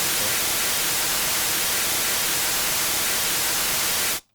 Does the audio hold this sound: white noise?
yes